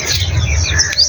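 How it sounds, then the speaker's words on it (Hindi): A kite (cheel) calls as it flies upward over a village, giving brief high thin cries over a low steady background hum. "हिल ऊपर उड़कर जा रही है।"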